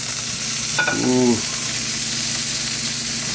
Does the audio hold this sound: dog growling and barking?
no